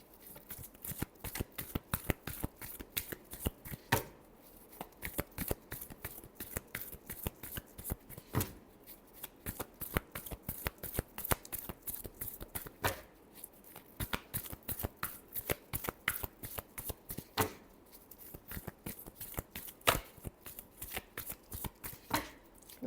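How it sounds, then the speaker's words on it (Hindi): Tarot cards being shuffled by hand in a steady run of crisp riffles and flicks lasting over twenty seconds, close and fairly quiet, with a few brief pauses and no talking. "last shuffle"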